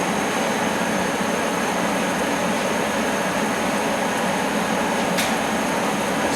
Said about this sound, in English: Here's the main spindle with the Y delta startup.